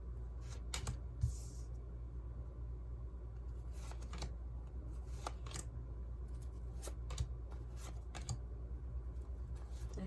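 Tarot cards being drawn and shuffled by hand, a run of soft, quick papery riffles and flicks close by over a low steady room rumble, with no talking.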